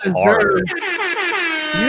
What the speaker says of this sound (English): deserve the rap air horn for that one, Scott.